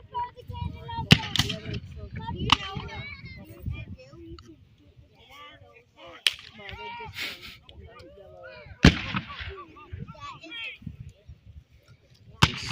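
Civil War reenactment at Green Bluff, Washington, with cannon and artillery fire: several sharp booming shots spaced seconds apart, some near and loud, under steady talk from people nearby.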